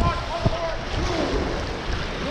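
A river raft is paddled forward through water in Nepal, with splashing and sloshing water plus wind noise over a short stretch, and a voice calls out commands over the rushing water.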